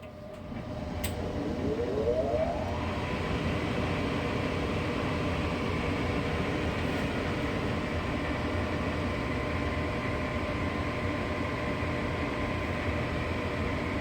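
A Lennox gas furnace with a burner that fails to light, starting up once its power is switched back on: a motor whirs up over a couple of seconds, then settles into a steady, fairly loud broadband hum and rush.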